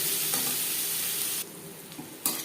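Four coarsely chopped onions fry in a pan for a fish curry, giving a close, steady sizzle and hiss that drops briefly when stirred, with no talk.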